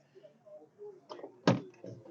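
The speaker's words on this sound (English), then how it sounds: "Could you open the back door?" The back door of a 1960 Pontiac Catalina station wagon being opened, a few soft clicks of the latch followed by a single sharper metallic clunk, close by.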